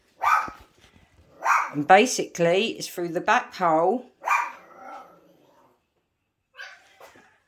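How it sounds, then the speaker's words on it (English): A dog barks a few times in the background while someone talks steadily over it at close range. "Excuse the dogs, bloody things."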